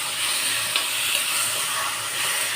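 Tomato frying in a kadai with browned onion and ginger-garlic paste, a loud, steady close sizzle and hiss with faint stirring and no talk.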